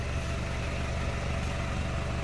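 A 2004 Toyota Grandia 2.0 fuel-injected engine idles steadily, a continuous low rumble with broadband exhaust noise, close by and unchanging throughout, with no voices.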